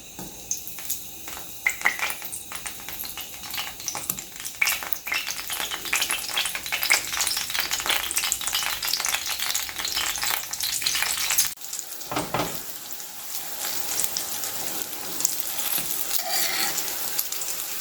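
Breaded pieces coated in chickpea flour, breadcrumbs, turmeric, pepper and ginger garlic paste fry in a pan with a steady, loud sizzle, with occasional stirring and light pan clatter and no talking.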